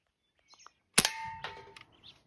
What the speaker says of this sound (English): I'm gonna shoot a can with metal and plastic sight on 6 pumps.